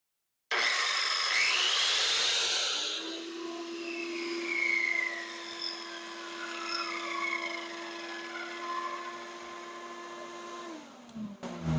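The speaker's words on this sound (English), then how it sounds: "And so then the shop vac comes on, it runs while the saw is running" A track saw cuts with a shop vac running alongside it. A loud burst of motor and blade noise starts the cut, then settles into a steady whine and vacuum roar that holds until both cut off near the end.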